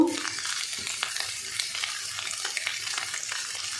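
Boiled chopped potatoes being stirred into a sizzling samosa filling in a pan, a continuous hiss of frying with soft scraping stirs close by, fairly quiet and without talk.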